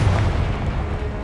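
A Confringo spell explodes in Hogwarts Legacy, a loud, dense, booming blast that fills the whole short moment without a break.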